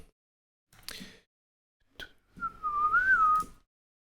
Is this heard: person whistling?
yes